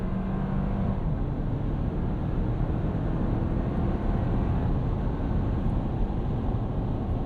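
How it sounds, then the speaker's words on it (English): A 2024 Toyota Land Cruiser J250 First Edition with a 4-cylinder engine cruises flat out on the highway, its tires giving off a loud, steady road roar and rumble that stays constant and close throughout, with no talking. "a lot of noise from these tires"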